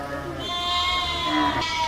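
Sheep bleat over one another in a wavering, nasal chorus, fairly close, with a low rumble beneath.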